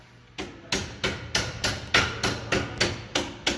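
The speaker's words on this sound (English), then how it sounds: "pound it back down" Steady hammer blows pound a bent bumper on a 1981 Trans Am back into shape, about ten sharp metallic strikes at an even pace, close and loud with no talking.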